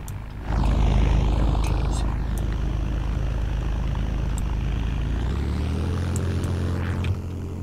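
A propeller airplane engine in the Roblox game Plane Game drones steadily and loudly, with a low rumbling tone that shifts pitch partway through, like a simulated aircraft in flight.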